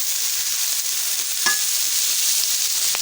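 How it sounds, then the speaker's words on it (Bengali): Bitter gourd frying in oil while being stirred, a loud continuous close sizzle with brief scraping at the stir. "এখন একটু তেলের মধ্যে ভাজে নেব"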